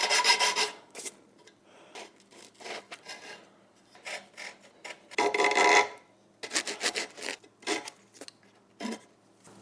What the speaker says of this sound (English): I need to file it flat now anyway